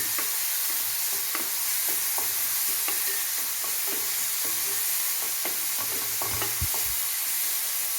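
Ground ginger, garlic and shallot paste fries in oil for a mackerel coconut curry, a steady close sizzle broken by frequent scraping stirs of the spoon against the pan, with no talking.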